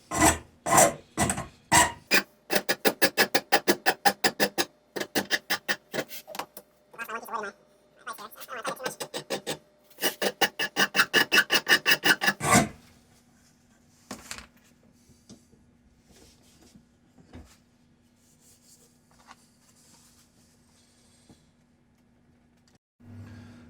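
A rasp files an old, very hard hardwood hammer handle in quick rhythmic strokes, loud and close, then stops; a faint hum and an occasional scrape follow in near quiet.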